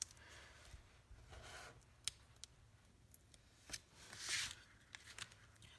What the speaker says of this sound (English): we're going to fussy cut that, attach it with dimensionals